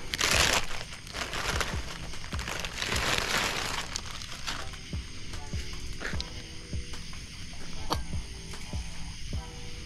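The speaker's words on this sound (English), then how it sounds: "We'll take it out of the bag." A plastic bag crinkles and rustles up close as a rear brake part for a 2011-2014 Mustang GT is pulled out outdoors, with irregular crackles and small mechanical clicks throughout.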